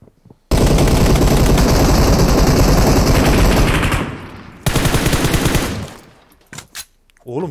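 Loud automatic gunfire from the mobile game PUBG Mobile rattles in long continuous bursts, breaks off briefly, then resumes before fading, with a few scattered shots after it.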